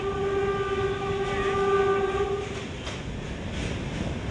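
Train travelling near Kashi station in Varanasi, with a loud sustained horn blast over a steady rumble of wheels on track, after which the horn stops and the rolling noise carries on alone.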